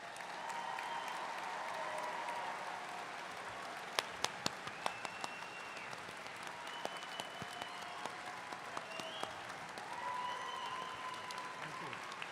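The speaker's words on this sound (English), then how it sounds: "Let's have another round of applause for our graduates." A commencement audience applauds graduates, with a sustained wash of distant clapping and sharper individual claps near the middle, moderately faint in a large hall, with some cheering voices mixed in.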